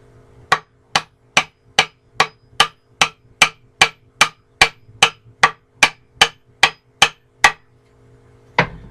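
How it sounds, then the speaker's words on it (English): A hammer taps the bottom of a go-devil splitting maul's wooden handle in a steady series of about seventeen sharp, evenly spaced knocks, close and clear, seating the head, followed by one final tap after a pause. "we're going to tap the bottom of it"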